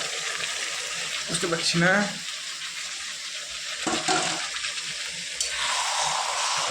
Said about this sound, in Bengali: এখন এই চিকেনটা দিব, দেখুন সুন্দর ডাইরেক্ট দিলাম